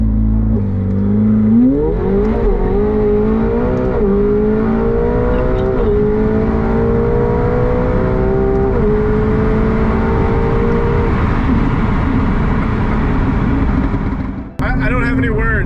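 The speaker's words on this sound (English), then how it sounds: "Launch mode active. Awaiting full throttle." A 1000 hp McLaren 720S does a launch-control full-throttle start, its engine roaring close and loud, climbing in pitch through several rapid upshifts, then steady hard pulling with a sharp thump near the end.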